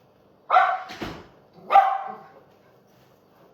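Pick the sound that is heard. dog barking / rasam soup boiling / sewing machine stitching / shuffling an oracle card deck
dog barking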